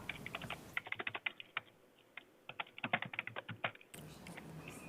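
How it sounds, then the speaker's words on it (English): Someone on a remote call during a county commissioners meeting types on a computer keyboard: rapid, irregular clattering keystrokes in bursts, heard through thin, phone-like call audio with no talking. "We have somebody online that is typing while they're on."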